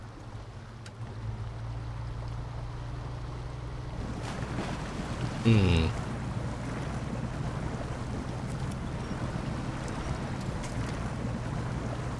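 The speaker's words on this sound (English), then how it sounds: "Wonder if I can get through the river right there." A lifted K1500 truck in the SnowRunner video game drives into a river, with a steady engine hum and water wash growing busier partway through, plus a brief rising whine; a voice murmurs once.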